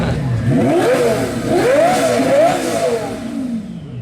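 A BMW N54-engined car from a fast N54 build revs nearby, its engine sweeping up and down in three loud rising and falling pulls with no talk over it.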